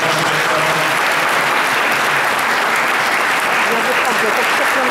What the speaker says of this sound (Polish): Jeszcze raz ja bym poprosić o klaski